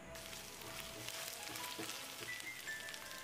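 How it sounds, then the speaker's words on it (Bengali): Ginger-garlic paste frying with chopped onions in a pan gives a steady, close sizzle and hiss for the whole moment, with no voices over it. "পেঁয়াজ কুচানোগুলো হালকা ভেজে নেওয়ার পর এর মধ্যে এবার দিয়ে দিচ্ছি আদা ও"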